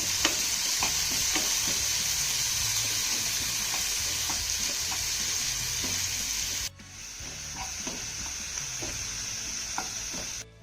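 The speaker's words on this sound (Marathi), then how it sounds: "हा कांदा आणि टोमॅटो आपल्याला छान असा मौसूद होईपर्यंत परतून घ्यायचा आहे" Onion and chopped tomato sauté in a pan with a steady, loud sizzle, punctuated by spoon scrapes and taps from regular stirring; the level drops slightly partway through and then continues.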